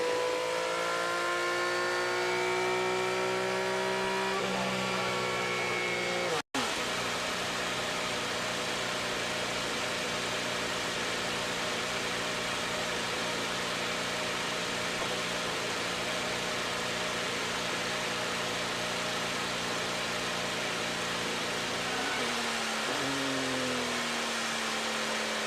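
An IndyCar race car engine revving hard in gear, a loud continuous high-pitched drone that climbs in pitch, breaks briefly for a gear change, then holds and rises again alone without talk.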